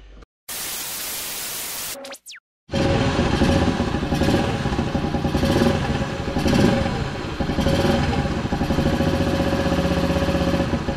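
A Yamaha motorcycle engine idling to warm and circulate its oil, heard close and loud as a steady rough rumble with a constant drone, after a brief burst of static and a short gap at the start.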